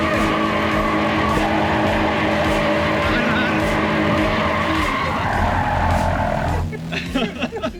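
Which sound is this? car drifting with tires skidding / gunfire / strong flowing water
car drifting with tires skidding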